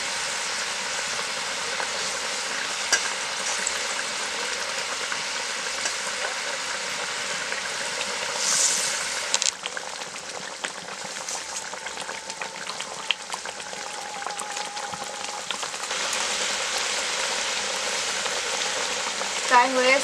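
Bhetki fish goes into a boiling pot with a continuous bubbling and sizzling hiss, steady and close throughout, with a brief surge of spatter partway through and faint clinks of utensils.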